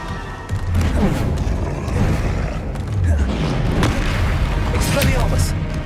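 An Incendio fire spell is cast in Hogwarts Legacy, with booming whooshes and crackling blasts layered over continuous game effects while a voice shouts along.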